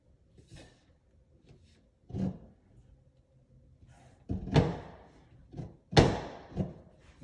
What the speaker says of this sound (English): Put it in place and shut the door.